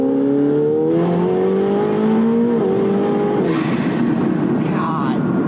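A 900 hp McLaren 720S accelerates hard from inside the cabin, its engine note climbing through rising pitch with a shift around midway, loud and continuous with a faint voice underneath.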